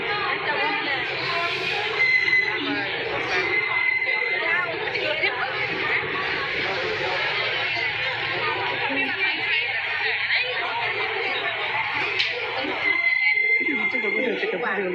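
A dense crowd at a busy railway junction fills the air with a continuous babble of many voices, steady and close, with nearby speakers talking over the hubbub throughout.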